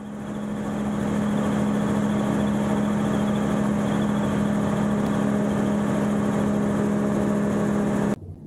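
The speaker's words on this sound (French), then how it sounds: "J'ai coupé les gaz, le moteur tourne toujours" An autogyro engine keeps running at a steady idle after the throttle is cut during a flight near Arras. It is a loud, continuous droning hum with no voices, and it drops off abruptly near the end.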